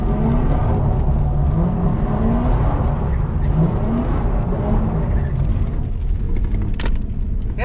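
A car fitted with a newly installed differential drives and revs, its engine droning steadily and loud throughout with rising and falling pitch as it accelerates.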